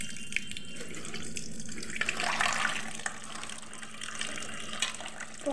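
Tap water runs steadily into a sink while fresh Haringhata raw chicken is rinsed, with a brief louder splash partway through as the pieces are handled; no one speaks.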